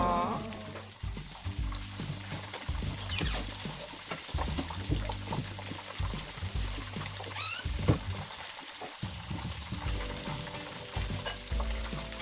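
Cream dory fish fillets fry until golden brown in a pan, giving a steady close sizzle with crackling spatters and occasional stirring scrapes throughout, with no voices.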